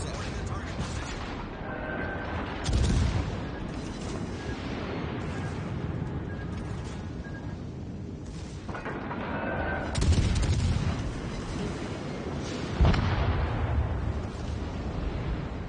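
Naval guns fire in a World of Warships Legends battle. Several heavy booming salvos land at intervals over a constant rumbling background, and a voice is heard talking through the clip.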